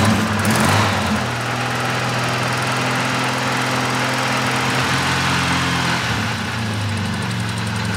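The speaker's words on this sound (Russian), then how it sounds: "запустить ее и проверить вообще, там мотор как работает" An Oka small car's engine runs steadily close by, a dense droning hum with a loud rough start that settles into an even idle, alone with no talk.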